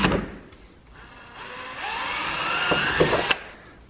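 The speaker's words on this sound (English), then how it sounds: "now we just got to drill the two little holes" A power drill whirs up and runs steadily for a couple of seconds drilling small bolt holes on a Jeep Gladiator for rock lights, then cuts off sharply, following a brief rustle at the start.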